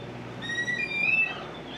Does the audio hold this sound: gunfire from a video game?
no